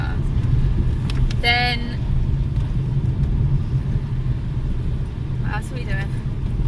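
A car being driven, its steady low engine rumble and road noise filling the cabin throughout, loud and close, while someone talks briefly over it.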